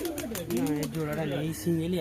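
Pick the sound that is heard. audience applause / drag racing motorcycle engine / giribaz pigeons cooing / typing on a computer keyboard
giribaz pigeons cooing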